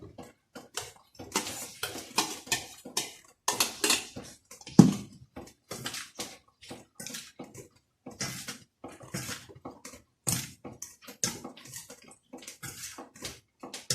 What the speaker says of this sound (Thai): แล้วเราใส่มะม่วงลงไปนะคะมะม่วง มะม่วงที่เราสับนะคะ เราใส่ลงไปเลย